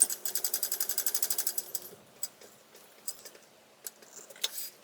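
A sewing machine top stitching a shoulder bag runs in a fast, even burst of needle ticks for about two seconds, then stops, followed by scattered small clicks and handling taps.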